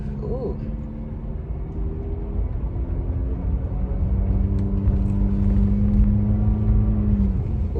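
Car driving on a freeway in heavy traffic, steady low engine and road rumble with tire noise throughout, growing slightly louder in the second half.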